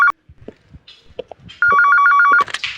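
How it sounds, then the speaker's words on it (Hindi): A telephone rings with a steady electronic warble in one loud sustained burst, following a short earlier chirp amid a small family gathering's background noise. "एसीपी साहब का फोन।"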